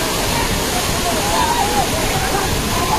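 A waterfall where people are bathing, a loud, steady roar of falling water with sloshing and splashing mixed in, voices faintly audible under the rush.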